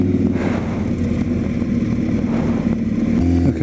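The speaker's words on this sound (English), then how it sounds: "Just a couple of Harleys." Deep, loud engine rumble of a couple of Harley-Davidson motorcycles riding past close by, a continuous throaty drone with no talking.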